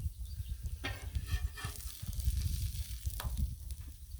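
Eggs fry on a Blackstone griddle with a steady, close sizzle and crackle that holds throughout, rising and falling slightly, with no talking.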